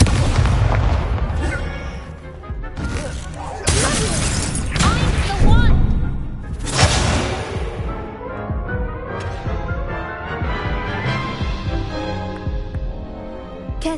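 Hogwarts Legacy spell effects for Accio, Levioso and Incendio crackle and whoosh in bursts, loud booming hits mixed with magical swells and game sounds.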